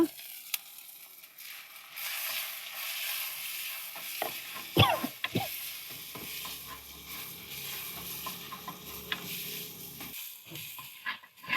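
Tomatoes fry in oil in a pan while being stirred, giving a soft continuous sizzle with scraping and clinking stirs, fairly quiet and without talk.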